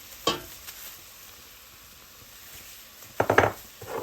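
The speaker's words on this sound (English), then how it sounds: "And we're just going to stir this up and let it cook for about a minute or two." Flour is stirred into a sizzling pot for chicken gnocchi soup, a quiet frying hiss underneath with a couple of brief scraping stirs near the start and end.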